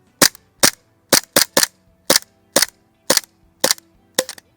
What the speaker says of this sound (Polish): Teraz przytrzymam zwalniacz zamka, żeby oddać kilka strzałów.